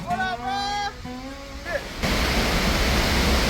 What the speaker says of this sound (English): Now we under the waterfall.